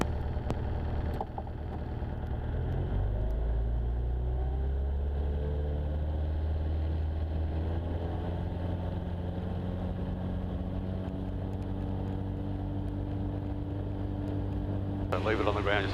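A Jabiru light aircraft engine drones steadily through the takeoff roll at Gawler, its tone rising as power comes up, with cockpit radio talk over it.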